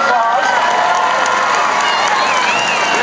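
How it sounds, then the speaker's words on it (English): A loud crowd at a Germantown High School gathering applauds and cheers, whistles and shouts riding over continuous clapping. "Everybody give her a round of applause."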